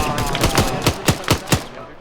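Gunfire in the military shooter Arma 3: a rapid burst of sharp shots, roughly eight cracks in two seconds, fairly loud and irregular with a dense reverberant background.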